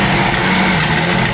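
McLaren hypercar engine running just after starting, a loud steady broadband roar that holds for a brief moment without pause, close and alone with no talk.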